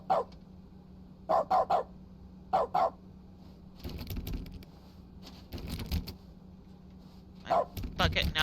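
In the video game The Stanley Parable, a bucket barks like a dog in short repeated bursts, some in quick doubles and triples, alongside stretches of a voice talking.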